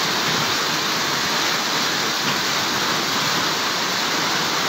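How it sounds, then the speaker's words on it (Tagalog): Heavy rain pours down steadily during a flood in Bonbon, Libon, Albay, a dense unbroken roar close by that holds level throughout, with no voices. "Lumalakas pala lalo ang ulan."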